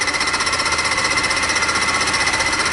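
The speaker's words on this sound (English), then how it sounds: "Chips are flying everywhere, obviously, but that's one problem with fly cutters." A fly cutter on a mini mill machines aluminum, producing a loud, steady, rapidly pulsing chatter with an even rhythmic beat and a bright metallic ring, heard alone without speech.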